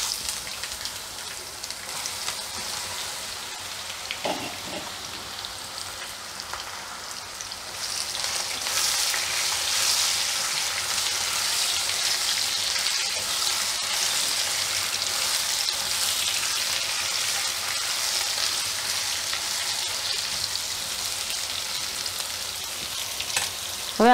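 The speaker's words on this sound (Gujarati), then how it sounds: "પછી જીરું નાખશું, આ હિંગ નાખશું, ને પછી આપણે આ તુરિયા નાખશું" Cumin seeds, asafoetida and chopped ridge gourd sizzle in hot oil, a loud, steady hiss that swells after a brief clatter as the gourd goes into the pan and then holds for the rest of the clip, with no talking.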